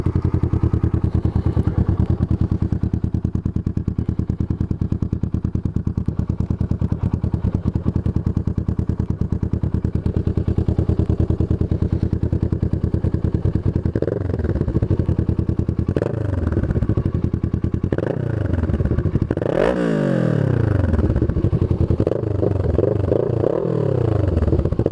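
A Kawasaki ER6n parallel-twin with a Yoshimura exhaust idles with a steady, loud, throaty burble, then is blipped several times, each rev rising sharply and falling back to idle.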